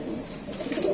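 A Rampuri pigeon gives a short, close, low coo lasting about a second.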